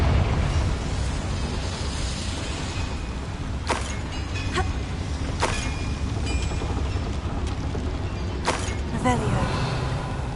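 Confringo fire spell explosions in the Hogwarts Legacy video game, set among boilers: several sharp, bright blasts burst out at intervals over a constant, dense game background rumble.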